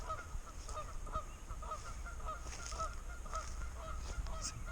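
A group of geese honk repeatedly, overlapping calls in an irregular rhythm, moderately close and clear over a low steady background hum.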